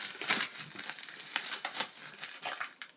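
A plastic bag is ripped open and crinkled during an unboxing of a Kingdoms of Amalur collector's edition, with close, irregular bursts of crackling and tearing throughout.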